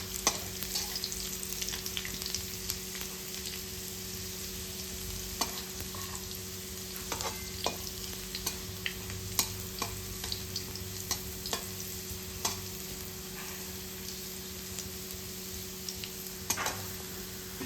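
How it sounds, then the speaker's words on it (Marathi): Garlic frying in a pan for a homemade fenugreek-leaf dish, sizzling steadily on its own throughout with faint scrapes and clicks of stirring scattered across it; no voices. "लसूणचा कलर जोपर्यंत ब्राऊन होत नाही, तोपर्यंत तुम्हाला त्याच्यात चांगल्या प्रकारे लसूण फ्राय करून घ्यायचं आहे."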